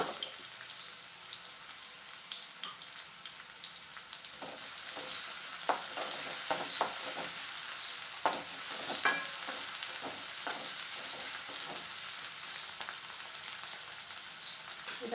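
Chopped onion sizzling and frying in a pan while it is stirred, a soft, steady crackle with occasional scraping stir sounds, fairly quiet and without talk.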